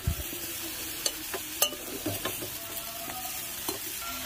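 Zucchini curry fries in a pan with a soft, steady sizzle as a utensil stirs and scrapes, giving a few sharp clinks and taps up close.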